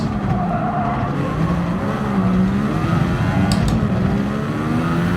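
Race cars driving nearby, loud continuous engine drone with rising and falling revs and a brief tire squeal, no talking.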